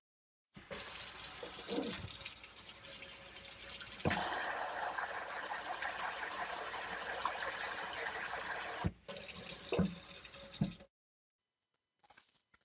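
Water runs steadily from a tap into a sink while seeds are water winnowed, a continuous close gush with a couple of brief interruptions before it cuts off and leaves near silence.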